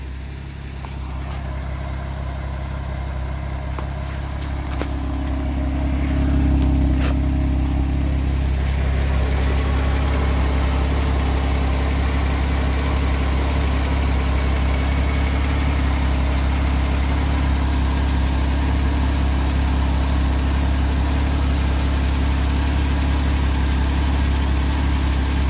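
An engine idles steadily after cranking, with no chain rattle. It gives a continuous low, even hum that rises slightly after the first few seconds and then holds for the rest, close by with no talking.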